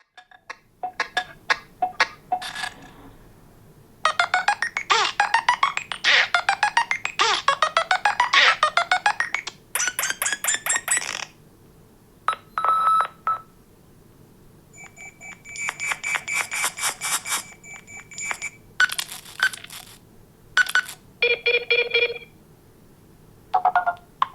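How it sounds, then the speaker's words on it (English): A sequence of Nothing Phone (1) ringtones and notification sounds plays, loud and close: bursts of bright electronic beeps, chirps and trills separated by short silences. "I'll play a select few here so you can get a real feel for what it's going to sound like when you get a notification"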